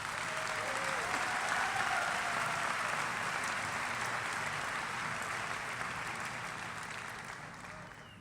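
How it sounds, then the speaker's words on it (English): An audience at a medical school commencement applauds the new graduates. The applause is steady and sustained throughout, heard from a distance in a large hall, and fades slightly toward the end. "Please join me in applauding these graduates."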